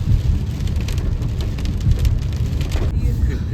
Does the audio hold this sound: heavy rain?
yes